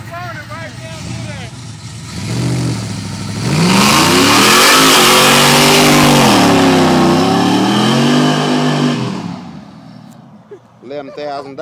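A Chevy AWD car with a 6.0 LQ4 V8 does a burnout, its engine revving up into a loud, sustained high-rpm roar for several seconds with wavering pitch before dropping back, while people talk nearby at the start and end.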